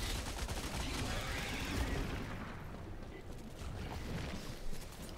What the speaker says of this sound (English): that turret really does the stuff